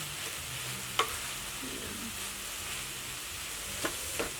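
Leftover rice frying in a pan for cheese corn kimchi fried rice: a steady, quiet sizzle with occasional stirring clinks and scrapes, heard close and without talk.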